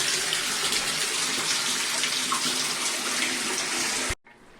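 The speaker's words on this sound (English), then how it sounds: "you can hear the last of the water coming out the tank" The last of the water draining out of a household water tank, a loud, steady gushing hiss that runs unbroken and then cuts off abruptly just before the end.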